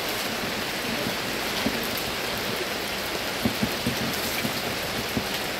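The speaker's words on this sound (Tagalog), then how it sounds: "Pabugso-bugso lang po yung ulan. Lalakas, hihina." Steady rain patters onto a surface with a broadband hiss, punctuated by scattered louder drop hits; the downpour holds fairly even across the stretch, with only slight swells in intensity and no voices.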